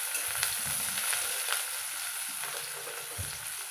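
Crispy fried vadas with chopped coriander being mixed in a pan, a steady oil sizzle with a few soft stirring scrapes, close and fairly quiet, no voices.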